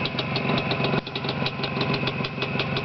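Motor number 59, noted as a bit louder than number 53, runs steadily at close range with a continuous rough, pulsing engine drone and no talk.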